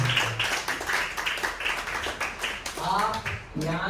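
Congregation clapping at a Jesus Redeems church service in Dombivli, a steady run of claps all the way through, mixed under a voice.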